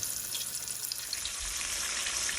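Pieces of channel catfish fry in a pan, a steady close crackling sizzle that holds evenly throughout with no voices.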